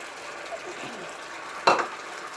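Beef stir fry with corn flour starch being stirred in a pan, a soft low sizzle with faint scraping, then one sharp clack of utensil against pan near the end.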